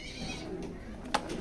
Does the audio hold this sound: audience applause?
no